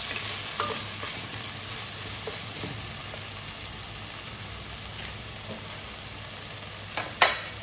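Onion and tomato sizzle steadily in a hot pan for pork sinigang, a close continuous frying hiss with soft stirring scrapes and a sharper utensil knock near the end.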